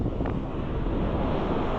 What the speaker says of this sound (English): we got some high wind velocity here on this point